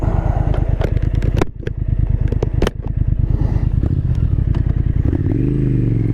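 A 2023 Triumph Thruxton RS Chrome Edition cafe racer motorcycle rumbles close by while riding, its engine firing in a rapid pulsing beat with brief throttle dips and wind buffeting, rising into a revving pull near the end.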